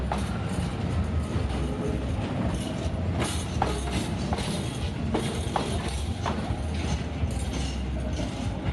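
A freight train passes at night, a loud continuous rumble with rhythmic clickety-clack of wheels over rail joints and metallic squeals, close by and steady throughout.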